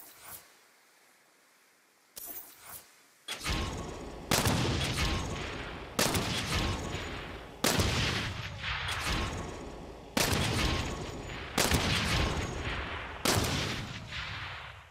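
Gunshots from the Saints Row video game: after a couple of quiet clicks, a series of loud, booming single shots rings out about every one and a half to two seconds, each followed by a short echoing tail.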